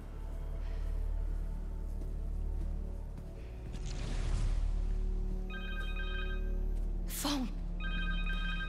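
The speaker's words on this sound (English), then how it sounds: "Phone." Cell phone ringing inside the Marvel's Spider-Man 2 video game, a few short bright electronic tone bursts in the second half over steady game ambience and a rushing whoosh.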